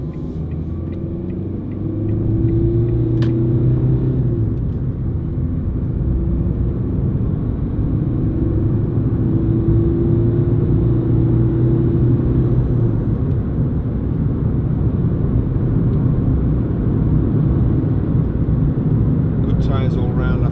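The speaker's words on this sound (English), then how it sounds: "you do get a little bit more tyre noise coming through, but nothing drastic so far" Cabin of a Ford Fiesta 1.4 TDCi three-door panel van on the move, filled with a loud, steady low rumble of tyres and road that swells after the first couple of seconds and holds, with faint engine drone beneath.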